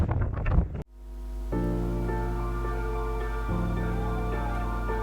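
Strong wind buffets the microphone on an exposed hill walk up Tarn Crag, a loud continuous roar with low rumble that sets in after a brief burst of other sound at the start.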